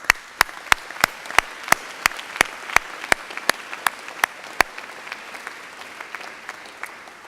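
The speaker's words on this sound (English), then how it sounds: "Please join me in applauding these students for this accomplishment." Audience applause for students at a biology commencement, heard as a regular train of sharp, evenly spaced claps standing out over a soft crowd wash, the loud beats stopping partway through while faint clapping continues.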